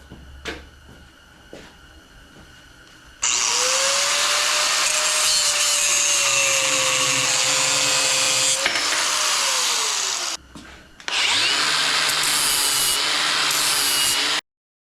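An angle grinder with a cutting disc cuts through steel in the workshop during a gas log splitter modification, a loud sustained abrasive whine with a descending tone, pausing briefly near the end before resuming.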